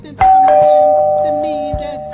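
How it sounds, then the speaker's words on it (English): A doorbell chimes once near the start, its clear tone ringing out and slowly fading over a couple of seconds, with faint voices underneath. "Her doorbell surprised her"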